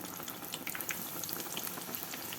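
Breaded chicken escalope fries in hot oil with a steady, close bubbling crackle and scattered sharp pops, with no voices.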